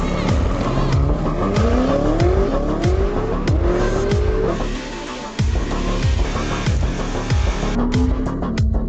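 A 1,000-horsepower BMW M4 race car with a V8 engine roars close by, revving hard through rapid repeated gear shifts while its tires squeal over the loud engine noise.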